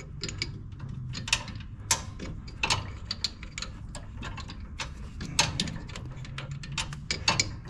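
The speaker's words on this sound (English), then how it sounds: "With my special little wrench I just made." A homemade wrench turns a bolt on a John Deere S140 riding mower during a transmission drive belt job, giving repeated close ratcheting clicks and metallic ticks in an irregular rhythm over a low steady hum.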